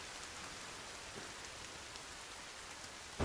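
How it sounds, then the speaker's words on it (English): Steady rain falling in the survival game Sons of the Forest, a soft, even hiss of drops on surfaces that runs unbroken throughout at a low, distant level. "It's just raining."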